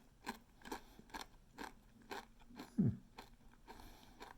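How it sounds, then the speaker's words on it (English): Crisp bites and chewing of a gluten-free chip made with bean flour, about nine sharp crunches in a steady rhythm, close and fairly quiet with no talking. "Nice, satisfying crunch."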